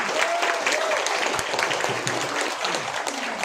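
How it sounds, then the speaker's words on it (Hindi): An audience claps steadily and loudly throughout, a dense continuous round of applause in an indoor gathering. "जोरदार तालियां हो जाए मैम के लिए।"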